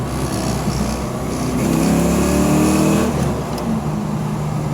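A 1991 Ford Mustang LX 5.0 with a Flowmaster exhaust, downshifted into second, revs with a loud, rough, rumbling engine note that swells and eases back over a continuous throaty drone, recorded close.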